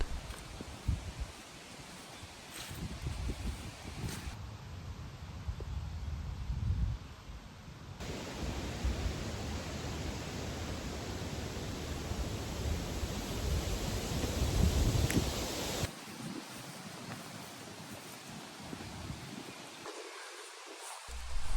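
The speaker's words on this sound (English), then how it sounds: "it was particularly windy" Steady broadband wind rushing through tree leaves, a continuous rustling hiss that swells louder midway and eases near the end, with no voices.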